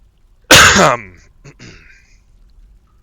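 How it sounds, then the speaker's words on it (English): A single harsh cough bursts out close to the mic, followed by a couple of softer throaty breaths and small sounds, then quiet. "Sorry about the coughing."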